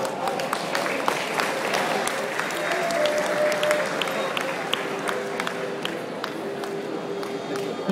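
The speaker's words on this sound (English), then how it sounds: "give a round of applause" Crowd applause at an Indonesia Night gala at Sofitel Phnom Penh, sustained even clapping from a large audience in a hall, continuous and moderately loud throughout.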